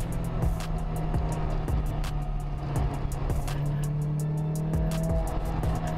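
A car, an Audi TT in a street race, drives with a steady engine drone and occasional rising and falling revs, heard continuously at moderate volume alongside sharp ticking clicks.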